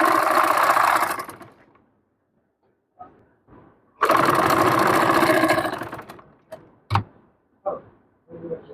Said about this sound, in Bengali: প্রথমে সেলাইটি দিয়ে নিচ্ছি সুন্দর করে